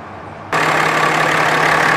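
A 2018 Ram 2500 pickup's 6.7 liter inline-six diesel engine idling, a steady broadband rumble that starts abruptly half a second in and holds constant and fairly loud to the end.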